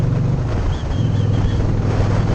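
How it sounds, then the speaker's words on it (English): Strong wind buffeting the microphone while riding a motorcycle, a constant rushing roar with low rumbling gusts and no one speaking. "it's a little windy today."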